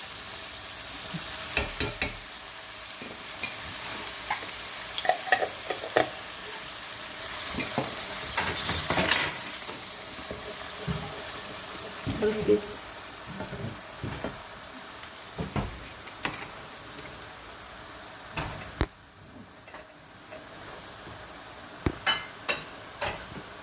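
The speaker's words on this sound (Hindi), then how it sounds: "देखिए मसाला तकरीबन भुन गया है।" Chana masala is frying in a pan while being stirred, giving a steady sizzle with repeated scraping clinks of the spoon against the pan, close and alone.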